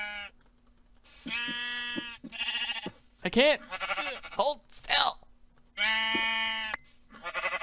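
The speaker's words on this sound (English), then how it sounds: "Ooh, sheepies!" Sheep in the video game Minecraft bleat repeatedly in short wavering calls, loud and close, alternating with a man's speech and some clicking sounds.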